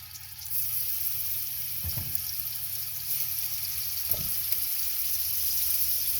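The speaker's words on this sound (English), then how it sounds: "I want to hear that sizzle" Steady sizzling hiss of chicken frying in a hot pan, close up, with a couple of brief low clunks partway through and no voices.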